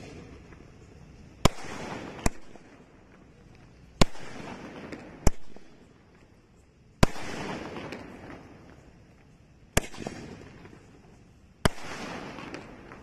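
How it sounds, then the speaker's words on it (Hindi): A green 12-shot Diwali firework cake fires outdoors, with sharp loud cracks at irregular intervals, several followed by short crackling bursts and fading echoes, and no talking. "अब इसको जला के देखते हैं हमारे ये ग्रीन वाले 12 शॉट है ये कैसा चलता है।"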